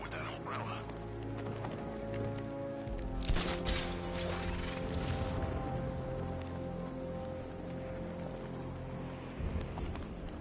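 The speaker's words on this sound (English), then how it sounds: "What's with all the rain?" Steady rain pours down in the Batman Arkham Knight video game, a dense hiss with scattered drips and clatter continuing throughout, moderately loud under a low layer of game ambience.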